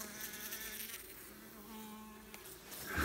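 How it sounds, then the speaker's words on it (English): Honeybees buzz in a steady, faint drone around a house, with a loose queen among them. The hum carries evenly with a brief rustle near the end and no talking. "There she is, the world's most elusive honeybee, the queen, crawling around in the carpet."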